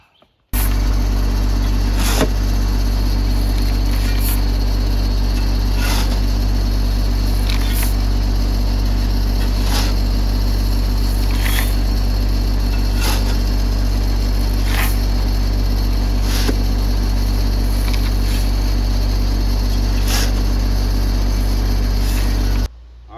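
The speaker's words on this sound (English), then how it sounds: "concrete truck. It's coming up the drive right now." A concrete truck climbs a driveway to a root cellar build site, its engine a steady, close drone that runs unbroken for over twenty seconds with no talking.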